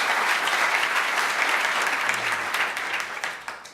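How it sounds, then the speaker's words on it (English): An audience at a First Lady's event on career and technical education applauds a student named Jacob, steady close clapping that tapers off near the end. "So let's give Jacob another round of applause."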